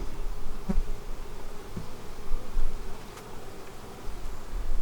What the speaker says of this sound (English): We have some bees in here